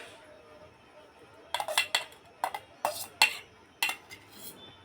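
Boiled sweet corn kernels tipped from a pot into a metal strainer, a burst of irregular metallic clatters and clinks with splashing draining water, against a quiet background.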